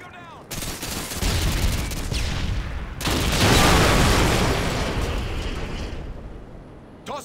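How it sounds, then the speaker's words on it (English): Dense, loud gunfire from the Modern Warfare 2 video game in a Search and Destroy match, sustained bursts and booming shots filling most of the stretch with a brief gap, then fading at the end. "That's a guy shooting. Take him down."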